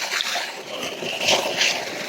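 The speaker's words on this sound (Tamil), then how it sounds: "இங்கே டெலிவரி தண்ணி எவ்வளோ வருதுன்னு பாருங்கள்" Water gushing from the delivery pipe of a solar-powered DC motor pump used for well irrigation, a continuous rushing splash with small surges, close and fairly loud.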